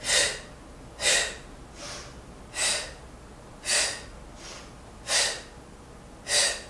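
Breathing during yoga twists: seven or eight breathy exhales and inhales come at a slow, even pace about a second apart, close and clear, with no talking.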